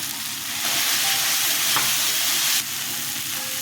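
Ginger, chilli, mustard paste and turmeric hit hot oil in a pan, a loud, close sizzle and hiss with stirring, swelling briefly then settling to a steadier fry.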